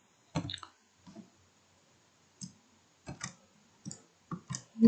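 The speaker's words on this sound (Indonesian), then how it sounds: "Untuk perintah yang pertama yaitu kita ketik student calculus." Keys on a computer keyboard tapped in short, irregular bursts of clicks with brief pauses between them, as a command is typed into Maple math software; close and fairly quiet, with no talking.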